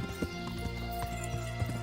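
Horse hooves clip-clop steadily in Kingdom Come: Deliverance, a regular trotting rhythm of soft thuds under a continuous hum of game ambience.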